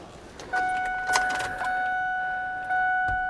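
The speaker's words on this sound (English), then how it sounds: "A good old-fashioned Ford beep" A steady two-tone electronic warning chime sounds continuously inside a Ford Mosport coupe with a 3-speed manual, accompanied by soft clicks and rustling nearby.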